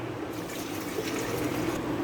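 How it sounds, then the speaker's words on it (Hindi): Water is poured from a jug into a cooking pot of garlic, ginger and green chilli paste for beef bhuna gosht, a steady close splashing rush that continues throughout with no talk. "2 गिलास के बराबर इसके अंदर मैंने पानी डाल दिया"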